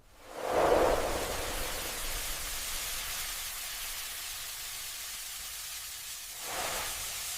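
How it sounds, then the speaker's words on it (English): High-temperature steam hissing onto freshly picked matcha tea leaves during steaming, a broad loud hiss surging at the start, then holding steady before a second swell near the end, with no voices. "The steaming step, called mushi, applies high-temperature steam to the freshly picked leaves for 15 to 30 seconds."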